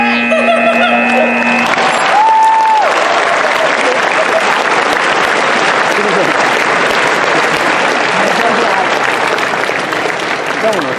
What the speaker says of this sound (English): Let's give another round of applause for the volunteer sound effect